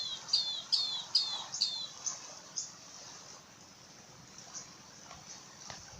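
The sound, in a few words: bird chirping in the video game Minecraft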